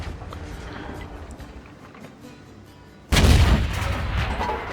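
A tank's main cannon fires in World of Tanks, Neo STB-1 tank: after a stretch of low engine rumble and quiet battle noise, one loud, close, broadband blast hits and rolls out into a sustained roar.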